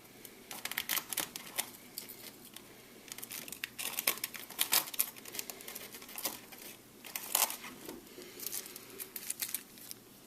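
Scissors snipping open a small plastic bag holding tiny screws from a Flyzone Micro B-25 Mitchell model plane kit, with close, irregular crinkling and sharp plastic clicks over about ten seconds.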